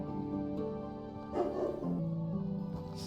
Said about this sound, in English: Dog was going nuts.